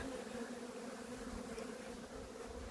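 Bees swarming across an apiary during a fierce robbing attack, producing a dense, steady drone that holds unbroken and fairly even throughout.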